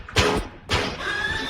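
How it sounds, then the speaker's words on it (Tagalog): A door is broken in the video game R.E.P.O., heard as two heavy thuds about half a second apart, close and fairly loud, followed by lingering game noise. "Sisira yung pinto."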